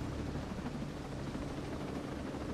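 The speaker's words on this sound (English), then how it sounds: "Yeah, I'll change the settings on the helicopter." Helicopter in Ghost Recon Breakpoint, a steady whirring rotor and engine drone that stays even and continuous, with no voices over it.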